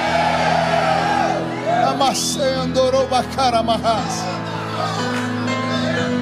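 A church congregation shouts and whoops in praise, with loud overlapping voices and a preacher speaking over the crowd.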